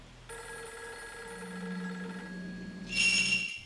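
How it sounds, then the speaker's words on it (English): An old telephone keeps ringing with a steady electronic tone inside a haunted manor in the Fatal Frame 3 video game, with a brighter burst of ringing near the end. Faint ambience sits beneath and no one speaks. "we're going to have to leave that phone ringing for a much longer time than is normal"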